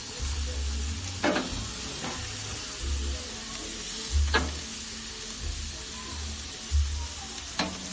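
An Australian T-bone steak sizzles in a home pan with a soft, constant hiss, while low thumps and a few sharp scraping clatters mark it being moved and turned.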